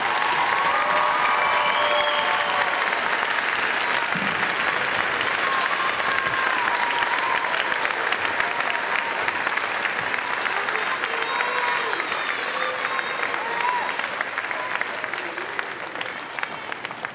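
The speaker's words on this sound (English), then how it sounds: "Let's give this class another big round of applause." A high school graduation audience applauds the graduating class, a loud, dense and sustained round of clapping with some cheering mixed in that keeps going for the whole stretch and thins slightly near the end.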